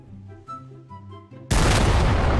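A 155 mm gun fires in the Garry's Mod sandbox game: quieter tonal sounds give way to one sudden, very loud boom that fills the second half of the clip.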